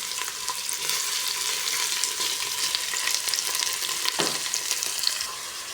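Ginger and onion frying together in a pan as the base for octopus adobo, a continuous close sizzle with light crackling and occasional stirring scrapes, and no voices.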